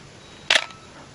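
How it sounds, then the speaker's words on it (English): Pentax Spotmatic film camera shutter firing once: a single short, crisp mechanical click, moderately loud and close, alone in a quiet room. "I don't know if you're actually hearing the shutter."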